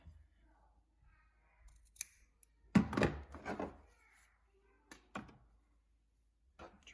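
Scissors snip through face mask fabric in a few close, crisp cuts with short pauses between them, set against an otherwise quiet room.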